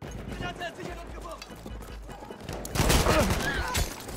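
Hoofbeats of a galloping horse in the Battlefield 1 video game, with rapid clip-clop and bursts of gunfire, rising to a loud explosion-like burst partway through while a player talks.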